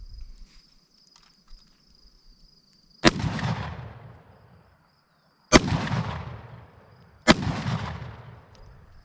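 Homemade rolled and filled shotgun cartridges are fired outdoors: three sharp, loud blasts, each trailing a brief rumbling echo, spaced a couple of seconds apart. Insects chirp faintly in the background.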